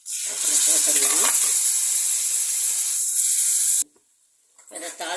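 Dried chilli and vadagam crackle and hiss in hot oil as a tadka for arai keerai masiyal, a loud, steady sizzle for nearly four seconds that cuts off abruptly, then resumes briefly with faint voices underneath.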